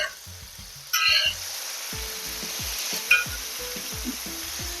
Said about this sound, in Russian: Да, жарим на большом огне